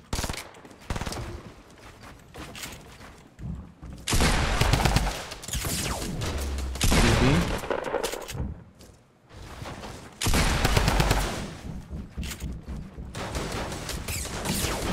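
Rapid bursts of Fortnite gunfire crack out in several loud volleys, some sustained like automatic fire, separated by quieter stretches of game ambience.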